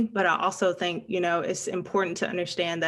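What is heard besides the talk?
None of the usual background noises is heard.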